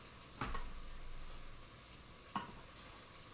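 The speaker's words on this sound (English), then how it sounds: "all I'm doing here is just melting that cream cheese and that cheese" Cream cheese and shredded cheese melt in a pan with a steady soft sizzle and hiss, broken by two louder scraping stirs, with no voices over it.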